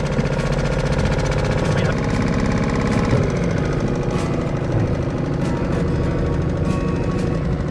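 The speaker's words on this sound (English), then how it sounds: "Engine started." A Suzuki outboard motor runs on a Sportyak BIC 245 mini plastic boat, giving a loud, steady buzzing drone with a rapid mechanical chatter that stays constant throughout.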